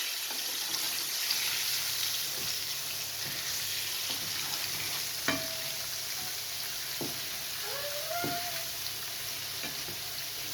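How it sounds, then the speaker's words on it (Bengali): An egg sizzles and fries in hot oil in a home kitchen, a steady crackling hiss with a few faint clinks of utensils. "তেলটা গরম হয়ে আসছে, ডিমটা ছেড়ে দিচ্ছি।"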